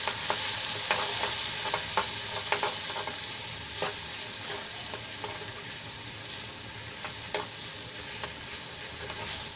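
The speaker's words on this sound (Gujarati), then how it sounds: "અને તેલ છૂટું પડે ત્યાં સુધી આપણે એને સાંતળી લઈશું." Spice masala fries in oil with garlic and chilli, a steady dense sizzle close up with repeated sharp scrapes and taps of a spoon stirring against the pan, continuing without pause.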